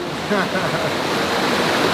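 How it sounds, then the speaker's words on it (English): River water rushes in a steady, loud, broadband wash while someone wades through the river, with no clear pauses. "we're now walking through the river"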